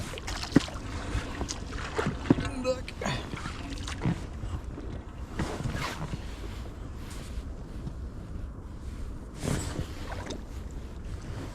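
A small boat on a lake in Hydropark, Kyiv, with a faulty side drive, gives a low steady rumble of motor and water under wind noise on the microphone, with a few knocks and faint voices.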